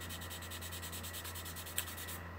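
Steady close rubbing of wet sandpaper across the clear coat of a car trunk lid on a classic car build, a continuous rhythmic scrubbing with one brief sharp tick near the end, over a low constant hum.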